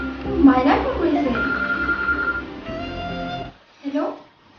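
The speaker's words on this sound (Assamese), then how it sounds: "মাইনা ফোন কৰিছে" A phone rings with a steady electronic tone under a voice, then the ring stops, followed by a brief spoken sound.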